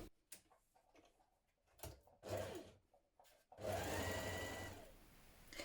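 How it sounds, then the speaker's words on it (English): A home sewing machine bastes around the raw edge of a collar on a spring top, in short stop-start bursts and then a longer steady run of rapid stitching, with quiet handling noises between. "now we're going to baste round the raw edge"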